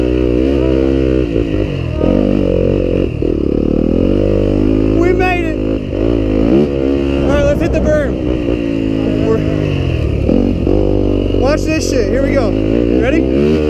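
Yamaha YZ250F dirt bikes racing in a tag team race at a motocross track, loud continuous engine drone with revving swells throughout, close by.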